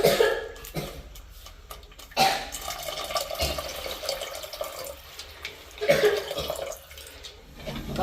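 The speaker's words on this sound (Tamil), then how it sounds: "இப்போ நான் எடுத்து வச்சுருக்கான புளிக்கரைசலை விட போகிறோம்." Tamarind water poured into a simmering masala mixture in a home kitchen, heard as splashing and gurgling liquid in uneven bursts with a sizzle between pours, close and fairly loud.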